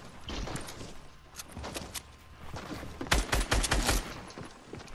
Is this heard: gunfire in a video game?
yes